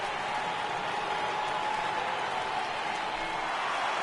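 A stadium crowd in a baseball video game roars in a steady, dense wash of cheering and applause that holds at an even level throughout.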